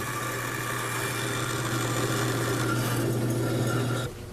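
A router cutting a wooden tenon, a steady, fairly loud buzzing whine with a rasping edge that holds for about four seconds before the cut ends abruptly, with no talk.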